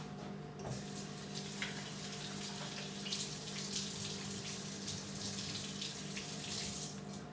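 Cold water runs steadily from a kitchen tap into a sink, a continuous close splashing hiss with no talk over it.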